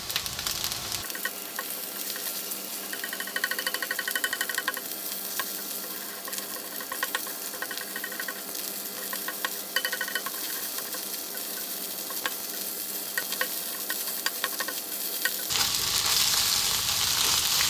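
Egg frying for fried rice, sizzling steadily in a hot pan while being stirred, with scraping and clinks of the utensil over a continuous crackle lasting most of the stretch.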